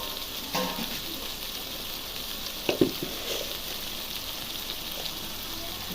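Tomatoes fry in a pan for mushroom curry with a steady, close sizzle and crackle, a few louder pops and stirring clinks breaking through around the middle.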